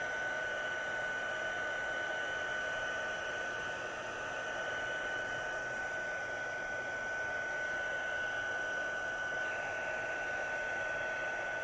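Continuous loud whooshing hot air comes from a craft heat tool used for heat embossing, with a steady motor whine and no talking over it.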